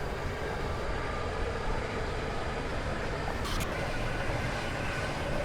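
The Stepford Express train runs in a video game, a steady, even rumble of the moving train that continues unbroken at moderate loudness, with no voices.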